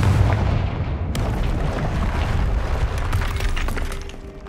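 The Confringo fire spell explodes in Hogwarts Legacy, a dense, rumbling blast with crackling debris that fills the whole moment and tails off slightly toward the end.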